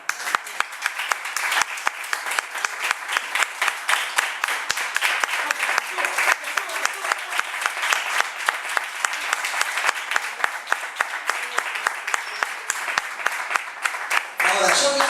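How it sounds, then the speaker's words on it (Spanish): A church congregation claps and applauds during a sermon, a long steady crackle of many hands lasting about fifteen seconds, with voices faintly mixed in beneath it. "Un aplauso a Gloria a Cristo."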